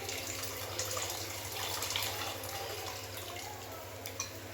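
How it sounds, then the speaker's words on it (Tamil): Tamarind extract is poured into a simmering bean curry cooked with dried fish, making a soft, steady liquid pour and splash close by, with no talking. "இப்போ வந்து அடுத்து என்ன பண்ண போகிறேன்னா புளிக்கரசல் தான் ஊற்ற போகிறேன்"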